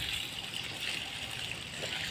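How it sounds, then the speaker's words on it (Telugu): Water runs from a small tap in a village cotton field, a steady close hiss of flowing water that continues without a break and with no talk. "ఇక్కడ నీళ్ళు పారుతాయి. చిన్నగా ట్యాప్ పెట్టాడు."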